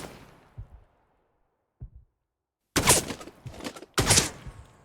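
Gunfire in a video game demo: a couple of faint single shots, then two loud, close bursts of rapid automatic fire separated by a short gap.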